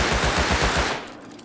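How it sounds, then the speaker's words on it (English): Loud, close automatic gunfire in the survival game Rust console edition, a rapid burst of about six shots that cuts off after roughly a second into a fading echo, without talking. "I'm shooting at them"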